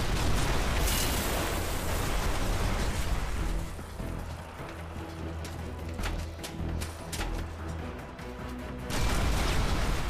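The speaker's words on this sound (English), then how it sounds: "so it makes some pretty good explosions." Planted explosives detonating in Red Faction: Guerrilla, heavy rumbling blasts with crashing debris, loud at first, easing into a lower rolling rumble, then surging again near the end.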